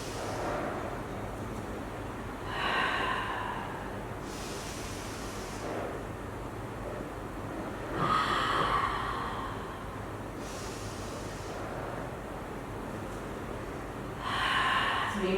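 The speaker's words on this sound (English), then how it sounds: "Deep breath in." Deep breathing during a pilates core strength exercise comes as slow, airy inhales and exhales, four breaths spaced several seconds apart over a low background hiss.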